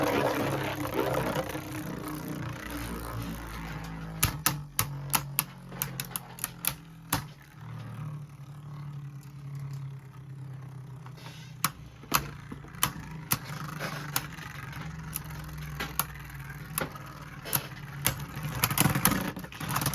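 Beyblade Burst spinning tops battle in a plastic stadium, a low continuous whirring hum broken by scattered sharp clacks of collisions, close and moderately quiet, with no talk.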